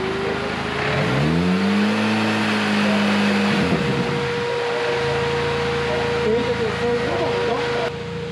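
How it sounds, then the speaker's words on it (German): Race car engine held at a steady 3000 rpm, then the throttle snaps shut and the revs drop away, loud and close, with people talking over it. "Lukas, halt mal die Drehzahl mal bei 3000 und dann lass auf einmal Gaspedal los."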